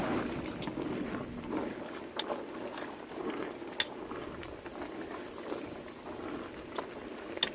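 Green peanuts at a hard boil in a pot, a steady low bubbling roil with scattered small pops and clicks throughout, close and moderately quiet.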